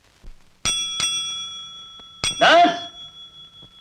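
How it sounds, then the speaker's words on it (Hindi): A bicycle-style bell rung at a dispensary, three sharp rings spaced apart, the last overlapped by a voice speaking close by. "घंटी तो ऐसे बजाई जैसे चारों तरफ मरीज ही मरीज हो।"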